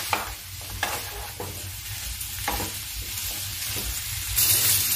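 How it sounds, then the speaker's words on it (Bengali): Jackfruit and potato pieces fry together in hot oil in a kadai, a steady sizzle broken by scraping stirs of a spatula, close and fairly loud throughout. "একসঙ্গে আমি এঁচোড় আর আলুটাকে ভেজে তুলে রাখবো"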